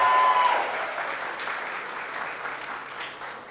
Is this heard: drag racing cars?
no